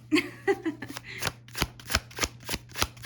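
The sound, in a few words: shuffling Dungeons and Dragons tarot cards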